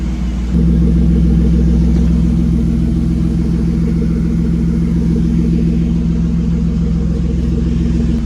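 A BMW E36 drift-build car engine runs steadily while warming up during a cooling system rebuild, a continuous low, close rumble that starts abruptly and holds at an even level with no voices.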